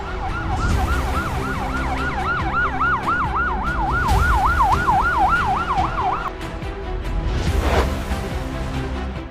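An ambulance siren wails loudly and steadily with a rapid rising-and-falling warble during a heat stroke emergency mock drill, then cuts off partway through while traffic and other vehicle noise continue underneath.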